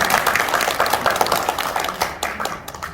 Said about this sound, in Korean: 그러시라고 박수 한번 더.